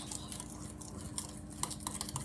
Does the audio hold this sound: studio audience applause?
no